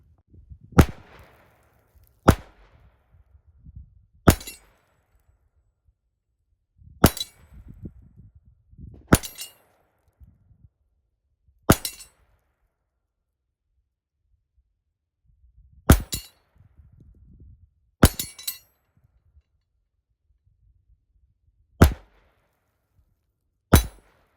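A Ruger Mark IV Hunter .22 pistol fires about eleven separate sharp shots at a steel shooting tree outdoors, each one a crisp crack with a faint metallic ping, spaced unevenly by pauses of a second or more, with no talking.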